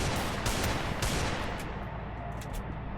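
Dense bursts of automatic gunfire crackle loud and continuous in a Free Fire 1v1 battle, a steady rattling barrage with a few sharper shots near the end.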